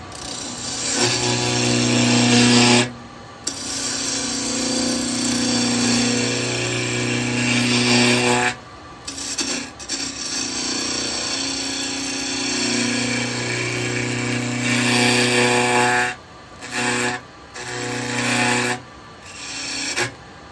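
Wood spinning on a lathe against a square negative-rake carbide cutter makes a loud, continuous rasping hum that stops abruptly several times as the tool lifts off, then resumes.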